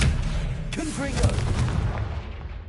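A Confringo explosive spell blast goes off in the Hogwarts Legacy game, a sharp boom with a rumbling tail over busy combat sound, with a voice briefly calling out amid the noise.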